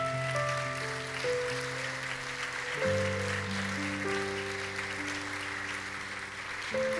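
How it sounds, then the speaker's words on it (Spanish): A Spanish-speaking church congregation applauds the Lord, a soft, distant patter of clapping that runs beneath sustained keyboard chords changing every few seconds. "Dale un aplauso al Señor"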